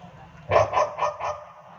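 A person imitates a dog barking at a religious sermon gathering, four quick barking yelps in a row over a faint low hum of the venue.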